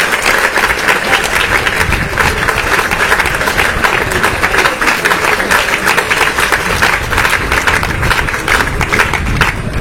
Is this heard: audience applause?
yes